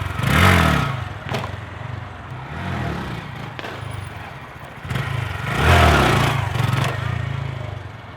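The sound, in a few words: Honda Grom motorcycle revving while doing a wheelie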